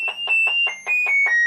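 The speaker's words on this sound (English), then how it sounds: "Got the alarm button" A toy amplifier kit built on a TEA2025 chip sounds its alarm button: about six rapid, evenly spaced electronic beeping pulses in a second and a half, loud and close, with no talking.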